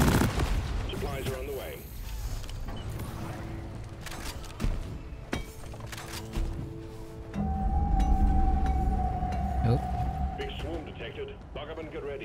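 Gunfire in the video game Deep Rock Galactic, bursts of shots and impacts amid chaotic game effects, with people talking over much of it.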